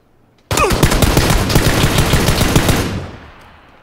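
A sustained burst of automatic gunfire in the PUBG video game, loud and close, rattling rapidly for over two seconds before fading.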